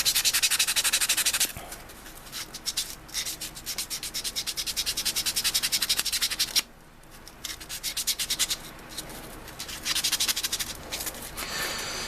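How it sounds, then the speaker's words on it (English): Steady rough rubbing of a 400-grit sanding sponge against a plastic 1:72 F-14A Tomcat model kit, in rhythmic back-and-forth strokes with short pauses, close and fairly loud. "And if I use a sanding sponge, what grit is this?"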